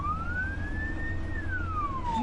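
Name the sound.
ambulance siren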